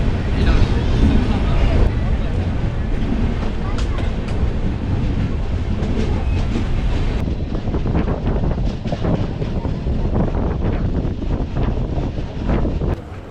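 Steady rumbling of a moving train from Chennai to Coimbatore, just starting out of Tiruppur, a continuous low roar with wind buffeting throughout, loud and close, with some faint voices mixed in.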